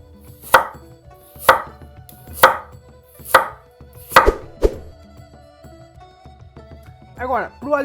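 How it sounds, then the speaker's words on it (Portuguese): A knife chops organic vegetables with the peel on against a cutting board, five evenly spaced sharp thwacks close up, then a quick double cut, with a voice speaking briefly at the end. "Pode cortar com casca e tudo."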